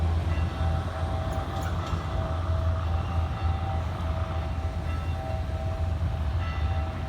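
A Hua Hin–Bangkok passenger train rumbles steadily nearby, arriving around a curve into Ban Pong station, wheels and engine droning at a constant level for several seconds, with a faint tonal hum above the noise.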